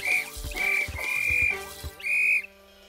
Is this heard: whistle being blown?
yes